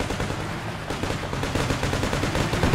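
Sustained automatic gunfire in a video-game firefight, aimed at an AAV armored vehicle: dense, rapid bursts of shots repeating steadily throughout, loud and close with no pauses.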